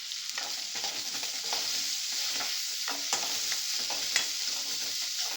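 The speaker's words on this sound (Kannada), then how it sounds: "ಈರುಳ್ಳಿ ಸ್ವಲ್ಪ ಫ್ರೈ ಮಾಡ್ಕೊಳ್ಳೋಣ" Chopped onions and cumin frying in hot oil for an okra yogurt gravy, a steady close sizzle with scraping stir strokes running throughout, no voices.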